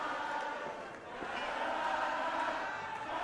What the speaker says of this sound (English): this capacity crowd letting Bateman and King know how they feel about him walking out of this matchup